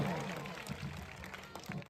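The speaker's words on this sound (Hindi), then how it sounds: "जोरदार ताली" Audience applause at a school quiz program: a short burst of clapping from a crowd, dense and continuous, fading out at the end.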